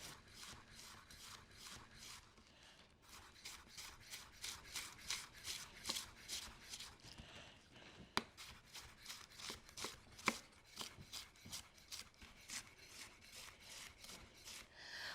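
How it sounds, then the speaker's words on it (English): A knife thinly slices red cabbage on a cutting board in a steady run of quick, crisp strokes, close and fairly quiet, with brief pauses between bursts and no talk. "Let's thinly slice our cabbage."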